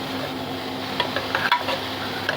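Ground onion and amla frying in oil in a pan on the stove, a steady low sizzle with a few soft pops and a stirring scrape, moderately close and without talk.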